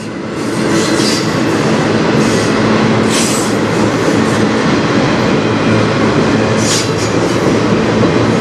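A freight train passes on the Strathroy Subdivision with a loud, continuous roar of wheels on rail, punctuated by a few high squeals and clicks, close and unbroken throughout.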